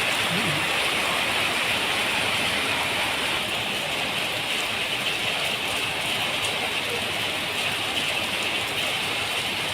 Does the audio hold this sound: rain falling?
yes